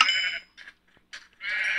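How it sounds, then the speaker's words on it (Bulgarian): Sheep bleat twice in a video game, loud and close, each a wavering nasal cry with brief quieter calls between. "Овце!"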